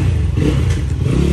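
A motorcycle engine runs close and loud with a steady rough rumble and rattly clatter as the bike arrives home, continuous for a moment with no talking.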